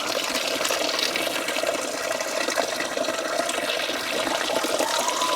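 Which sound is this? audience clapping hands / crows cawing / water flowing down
water flowing down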